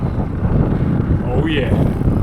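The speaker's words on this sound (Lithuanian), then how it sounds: "O vėjas visą laiką iš priekio." Steady headwind buffets the microphone while cycling through hilly country in a Spanish region, a continuous low, rough roar that fills the whole moment without letting up.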